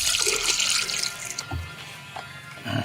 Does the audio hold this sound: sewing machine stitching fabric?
no